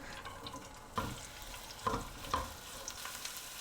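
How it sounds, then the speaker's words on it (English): Sliced onion sautés in a pan with a faint, soft sizzle and a few quiet stirring knocks of a utensil, all low and close with no voices. "in the pan, add in the onion and saute for 3 to 4 minutes"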